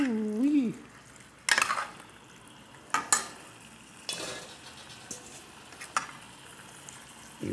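Pork browning in a pot for party jambalaya, soft sizzling under a series of sharp scraping and clanking spoon strikes against the pot, with a brief murmur of voice near the start.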